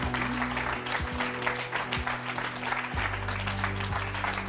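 A studio audience claps steadily and warmly for the guests, a dense, even wash of applause with a few low background tones underneath.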